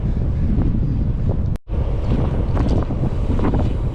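Wind buffeting the microphone while cycling into a headwind on a long-distance group bike ride across Iowa, a loud continuous rumbling roar broken by a brief dropout near the middle.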